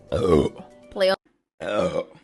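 A person lets out a couple of deep, throaty burps in short voiced bursts, separated by a brief pause.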